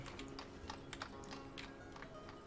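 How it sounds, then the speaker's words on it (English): In the village-building game Ostriv, a horse and cart approach with steady, light clip-clop hoofbeats and soft rattling, heard moderately near in a quiet rural setting. "Listening out for a horse and cart."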